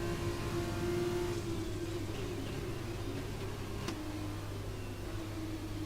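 Race car engine in a racing video game, a steady mid-pitched drone that rises and dips as the car is driven and drifts through corners, running continuously with no talking.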